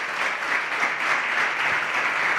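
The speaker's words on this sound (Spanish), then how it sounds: "Yo le pediría un fuerte aplauso" Steady, loud audience applause fills a tribute event for a football club's legend, a continuous even wash of clapping with no pauses and little else audible.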